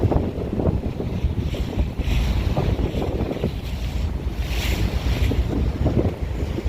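A large wooden boat motors across open water, with steady loud wind buffeting the microphone and waves washing against the hull throughout, no voices.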